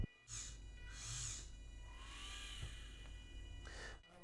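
A small electric motor on a reaction-wheel drone spins up as the craft is tilted to one side, giving a steady mechanical whir with brief higher-pitched bursts, close and fairly quiet.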